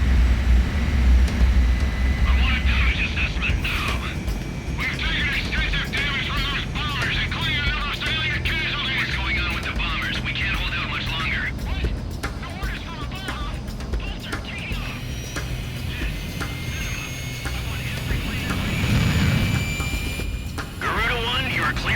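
Jet fighters in Ace Combat 6 spooling up and taking off: a continuous loud engine roar and whine rumbles throughout, with radio voices talking over it.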